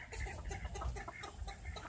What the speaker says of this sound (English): That's the original hen right there.